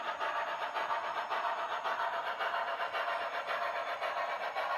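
HO scale brass model steam locomotive fitted with a sound decoder, giving a steady, rhythmic engine chuffing that pulses evenly and continuously at moderate volume, with no talking.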